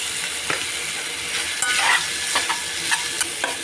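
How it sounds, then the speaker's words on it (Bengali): Onion, carrot and scrambled egg being stirred together in a frying pan while making egg chicken fried rice. A steady close sizzle runs throughout, broken by several sharp scraping strokes of the spatula. "এবার একে একে এর মধ্যে পেঁয়াজ ভাজাটা দিয়ে দেবো, গাজরটা দিয়ে দেবো, দিয়ে একটু নেড়ে নেবো।"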